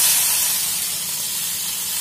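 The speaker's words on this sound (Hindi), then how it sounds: "अब हम इसमें जीरा डालेंगे और साथ में हम अदरक लहसुन का पेस्ट भी डालेंगे।" Cumin seeds and ginger-garlic paste hit hot oil for egg bhurji, giving a loud, steady, close sizzling hiss that holds without a break for the whole moment.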